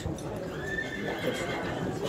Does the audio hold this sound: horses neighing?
yes